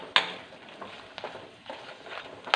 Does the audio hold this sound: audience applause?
no